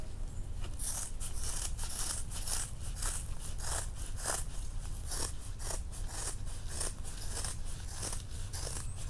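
Fiberglass cloth being cut with scissors for a cracked dashboard repair on a Chevy, a steady series of crisp snipping cuts close up over a constant low hum, with no talking.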